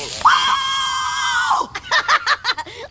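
A cartoon character from the animated series The PJs lets out a long, loud, high-pitched scream during a camping scene, then breaks into short, choppy yelps and gasping cries.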